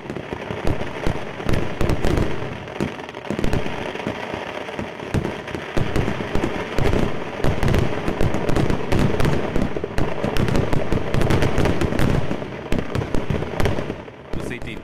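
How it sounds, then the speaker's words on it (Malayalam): Sample fireworks at Thrissur Pooram, with gundu, amittu and kuzhiminnal firecrackers exploding in a dense, continuous barrage of loud bangs and crackles, overlapping rapidly and echoing throughout. "ഗുണ്ടുകളും അമിട്ടും കുഴിമിന്നലുമെല്ലാം പൂരത്തിന്റെ ആവേശക്കാഴ്ചയായി മാറിയപ്പോൾ"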